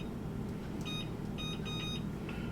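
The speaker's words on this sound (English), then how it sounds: "Timer." Kitchen oven timer beeping in a few short electronic bursts, fairly faint over a steady background hum and room noise, with no talking.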